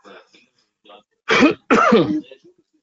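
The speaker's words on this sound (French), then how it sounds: "Vraiment désolé de tousser comme ça." A man coughs and clears his throat, two loud harsh bursts close to the microphone after a few faint short throat sounds, heard alone with no speech.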